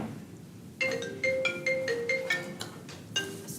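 iPad ringtone for an incoming FaceTime call sounds in a committee meeting room, a bright repeating melodic chime in short regular bursts, fairly clear and alone with no talk over it.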